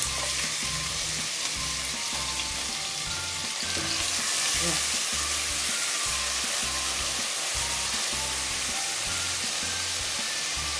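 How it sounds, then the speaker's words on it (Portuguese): Steady loud sizzling of garlic and onion frying in a hot pan, a continuous crackling hiss with a faint rhythmic hum underneath. "A fritura do alho."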